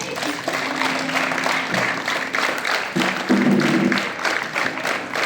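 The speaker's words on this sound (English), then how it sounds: "Clap your hands." A group of students claps hands together at a handwriting competition award event, steady dense applause under a talking voice, with faint tones in the background.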